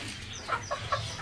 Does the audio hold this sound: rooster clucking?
yes